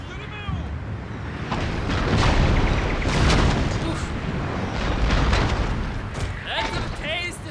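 Booming cannon and artillery fire from a Total War: Shogun 2 battle, heavy rumbling blasts rolling one after another with a steady roar of battle noise beneath, and a voice speaking over it.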